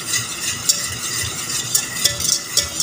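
Boiling caramel for a cream caramel dessert being stirred in a pan, close scraping strokes repeating in an uneven rhythm over a soft bubbling hiss, with a few sharper utensil clicks against the pan.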